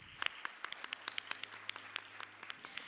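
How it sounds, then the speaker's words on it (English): Sparse audience applause at a ceremony, a modest group of individual claps with distinct separated hand strikes, fairly quiet and steady over a faint low hum. "Let's give everyone a big round of applause."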